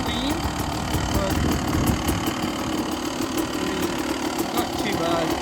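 A dirt bike engine idles steadily after the choke is taken off, running a little lean, with a close, even mid-pitched putter and slight knocking throughout.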